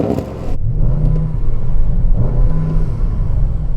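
An Audi RS6 engine revs hard against its soft limiter, a loud, deep rumble that surges and burbles in two repeated pulls with no talking over it.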